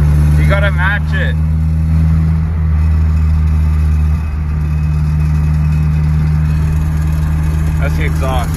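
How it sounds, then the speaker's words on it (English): An Acura TSX with a manual gearbox, driving on the road: a steady, loud low exhaust drone holds throughout, with a driver talking over it at the start and end. "That's the exhaust."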